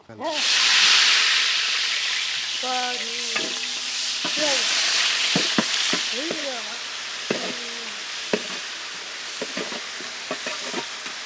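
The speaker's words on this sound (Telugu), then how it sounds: "దీంట్లోనే మనం సన్నగా తరిగిన ఉల్లిపాయ ముక్కలు యాడ్ చేద్దాం" Finely chopped onions hit hot oil with a bay leaf while mutton paya curry is being made, a loud initial hiss settling into steady sizzling, broken by a spoon scraping and clinking against the pan several times.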